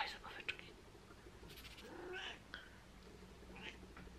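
A whining cat meows several times, fairly faint and distant, over a low background hum, with a few short cries spread through the moment.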